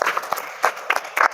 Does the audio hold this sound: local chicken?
no